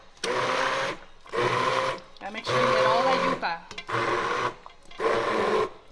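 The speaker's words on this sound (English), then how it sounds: "It's like a little blender in your hand." A handheld immersion blender mashes yuca in short repeated bursts, loud whirring pulses separated by brief pauses, with a voice speaking between them.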